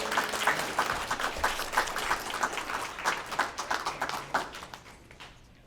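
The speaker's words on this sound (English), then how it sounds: "And one last applause for all the scholars and their hard work" An audience applauds scholars at an awards event, steady clapping from a room full of hands that holds for several seconds, then thins and fades toward the end.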